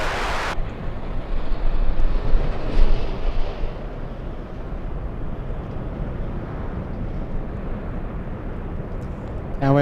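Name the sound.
Delta jet taking off from runway 24 left at LAX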